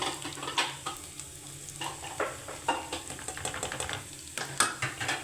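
Chicken liver (kaleji) cooking in a home kitchen pan, with steady sizzling and frying plus repeated stirring scrapes and light clinks at moderate, close volume, no talking.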